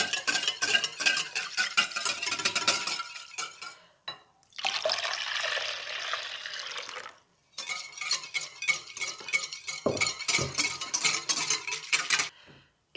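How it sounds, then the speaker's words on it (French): A spoon stirs a homemade yogurt mixture in a container, giving close, wet, rhythmic scraping and sloshing strokes in two long bursts separated by a short pause, with no talking. "on mélange bien."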